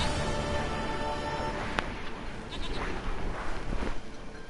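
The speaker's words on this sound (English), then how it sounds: "Goat of mine, dearest, sweetest goat." A goat bleats in a few wavering calls in a game stream, heard over a dense, steady background noise with a brief click partway through.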